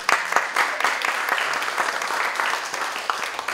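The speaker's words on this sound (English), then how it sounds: "Can we get a round of applause?" Audience applause at a presentation, a steady patter of many hands clapping at close range, with brief louder claps standing out, and no voices heard.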